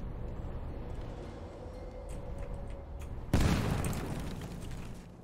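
A grenade explodes in Sniper Elite 4, one sudden heavy boom breaking a low ambient hum and rolling off into a long rumbling decay.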